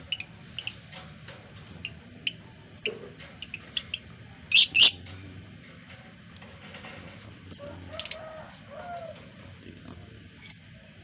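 Short, sharp bird chirps come in scattered single notes and a quick double burst, fairly close and clear over a quiet low background hum.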